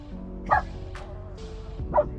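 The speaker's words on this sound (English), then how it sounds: "the dogs are barking" Dogs on or near a liveaboard sailboat give two short barks about a second and a half apart, moderately close, over a steady low hum with faint background noise.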